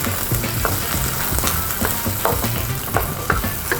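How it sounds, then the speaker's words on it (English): Onion dropped into hot oil in a very hot pan for Cantonese beef noodles crackles with a loud, continuous sizzle, close up, with small pops and stirring scrapes through it. "Then add in your oil and some onion"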